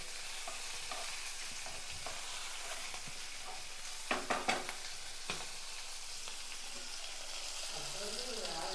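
Tempering spices spluttering and popping in hot oil in a pan for a tomato and cucumber chutney, a continuous close sizzle with a cluster of loud pops in the middle and a few scattered crackles.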